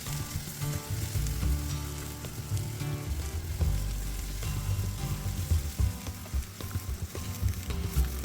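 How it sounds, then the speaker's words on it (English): Cabbage fries in a pan until soft and golden, giving a steady, loud, continuous sizzle with crackling spatter throughout, close up and with no voices. "now we're going to fry the cabbage at last. So fry them until they soften down and start to look a little bit translucent and golden"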